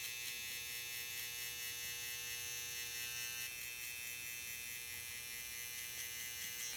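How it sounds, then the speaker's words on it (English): Hair trimmer running steadily while a barber outlines the foil shaver line on a mid taper fade, a constant close electric buzz with no talk. "You wanna get your trimmer and bolt out that foil shaver line."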